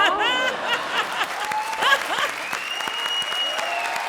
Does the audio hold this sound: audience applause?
yes